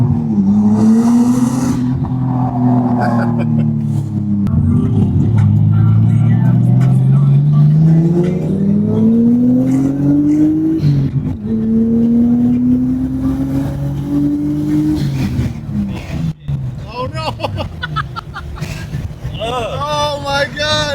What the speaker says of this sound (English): We about to rev,